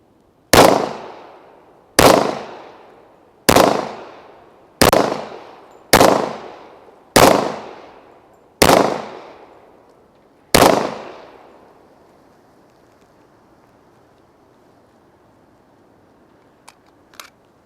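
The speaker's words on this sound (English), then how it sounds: "But we'll shoot 2 more mags, and then that'll put us at 100 rounds" Eight loud pistol shots from a Rock Island Armory Tac Ultra FS 1911 in .45 ACP, fired outdoors at an uneven pace roughly one to two seconds apart, each ending in a short echoing decay, then quiet.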